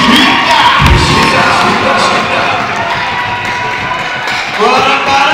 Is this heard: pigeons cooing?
no